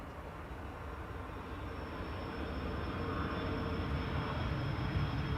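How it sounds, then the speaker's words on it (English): A Delta Airlines airliner arriving on the Polderbaan runway at Schiphol airport makes a faint, distant roar of engines that slowly swells louder over a few seconds. "Delta Airlines Flight 164, arriving from Minneapolis, Minnesota."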